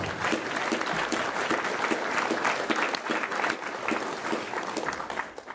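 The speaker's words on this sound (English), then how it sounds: "big round of applause for everybody here" Sustained audience applause at a federal candidates night debate held by the Delhi & District Chamber of Commerce: dense, even clapping from a hall crowd, steady throughout with no talk over it.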